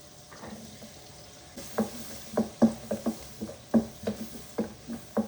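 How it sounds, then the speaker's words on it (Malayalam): Garlic sizzles in a small amount of oil in a pan for chicken soup, with a series of sharp popping crackles and stirring clicks over a low steady fry, close up and alone. "കുറച്ച് ഒളിയറ വളരെ കുറച്ച് ഓയിൽ വെച്ചിട്ടുണ്ട്. നമ്മുടെ ആദ്യം വെളുത്തുള്ളി ഇടുന്നത്."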